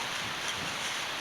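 Steady roaring wind buffeting a microphone outdoors during a sweet potato harvest, a loud continuous rush with no voices.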